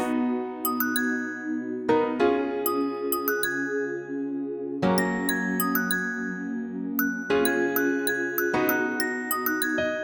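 Synthesized bell tones played on keys in FL Studio, ringing in a repeating rhythmic pattern with bright chiming strikes over sustained tones, restarting with slight changes every few seconds, loud and close with no talking.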